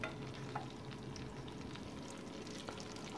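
Butter and oil heating together in a frying pan for a yogurt köfte sauce give off a low, steady, close sizzle with faint crackles and no voices.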